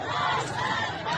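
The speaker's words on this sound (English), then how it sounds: "Death to Khamenei, they chant." A huge crowd of protesters in Abdanan, Iran, chanting together after a funeral, a brief, steady wall of massed voices, loud and close with no pauses.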